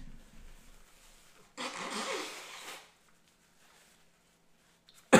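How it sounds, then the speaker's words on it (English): A person blows their nose in one firm, noisy burst lasting about a second, close and moderately loud, with quiet around it and a sharp knock at the very end. "I'm gonna blow my nose."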